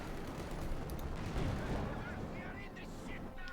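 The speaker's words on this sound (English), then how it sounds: "Heavy mortar there, push back." Heavy mortar fire in Company of Heroes 2 during a Wehrmacht versus Soviet match: dense, rumbling battle noise with booming impacts and scattered gunfire, continuous and fairly loud, with a voice talking over it.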